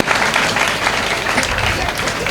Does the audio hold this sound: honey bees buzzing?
no